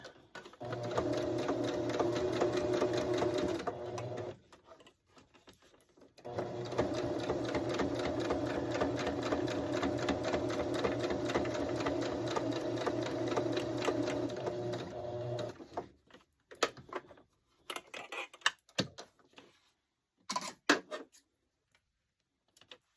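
A sewing machine stitches slowly around the corners of a candy cane cowboy ornament in two close, steady runs separated by a short pause, followed by faint clicks and handling sounds.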